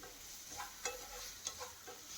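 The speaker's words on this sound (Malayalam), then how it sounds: "നേന്ത്രപ്പഴത്തിൻ്റെ പീസ് നമുക്ക് നെയ്യിലൊന്ന് വാട്ടിയെടുക്കണം." Ripe plantain pieces sauté in ghee in a pan, giving a faint, steady sizzle broken by a few soft stirring clinks, with no talking.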